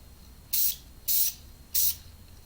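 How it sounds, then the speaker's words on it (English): Three short bursts from a spray can onto a fire and smoke terrain model, each a crisp hiss of about a quarter second separated by brief pauses, close and isolated. "And just real quick sprays."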